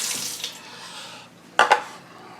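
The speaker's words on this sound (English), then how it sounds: "I'm going to run it under some cold water." Cold tap water splashes and runs over a CPAP filter at a sink, a soft continuous stream followed by a couple of sharper splashes and clatters near the end.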